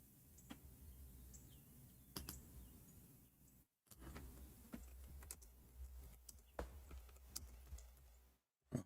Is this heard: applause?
no